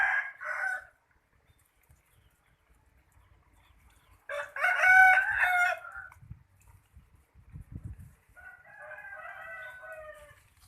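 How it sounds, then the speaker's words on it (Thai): Chickens in a home garden: a rooster crows loudly in several separate bursts, with softer clucking from fowl between them and quiet gaps of near silence. "เหล่าไก่นะครับเหล่าไก่ครับ"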